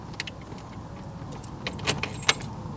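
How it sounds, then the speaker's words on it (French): Keys jingle and click close by as a key goes into the ignition of a 1966 Fiat 1500 Cabriolet, a few short metallic taps over quiet background hiss. "Donc vous mettez la clé,"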